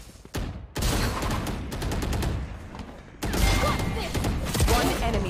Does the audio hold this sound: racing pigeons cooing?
no